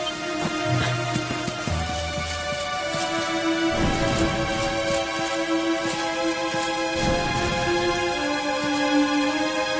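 Steady patter of rain with low rumbles of thunder in the video game Dragon Quest XI, mixed with sustained tonal music, no voices.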